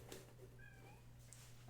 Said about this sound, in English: apologies in advance if you can hear my cat in the background.